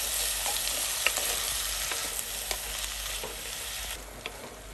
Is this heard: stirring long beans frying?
yes